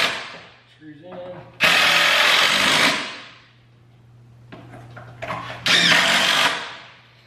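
A power drill drives screws into poplar boards for horse stall doors in two loud whirring bursts, each rising and then winding down, separated by quieter handling noises.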